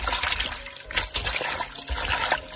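Running water splashes and trickles steadily while gooseberries (amla) are rinsed for pickle at home, a close, continuous wet spatter with a few louder splashes throughout.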